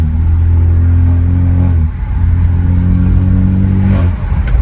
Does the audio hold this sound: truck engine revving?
yes